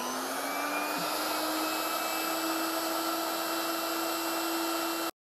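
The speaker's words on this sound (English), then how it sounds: "We sharpen tungsten from both ends." A machine grinds a tungsten electrode to a 60-degree point for TIG welding, giving a loud, steady motor whine with a high grinding hiss that runs unbroken for about five seconds and then stops abruptly.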